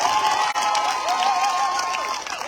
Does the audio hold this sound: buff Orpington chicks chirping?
no